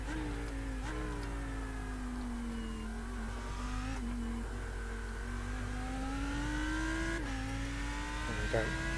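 The Lamborghini Huracan GT3 EVO race car engine in iRacing drones steadily at high revs, pitch climbing gradually with sharp dips at several gear shifts, loud, close and continuous, with no talking.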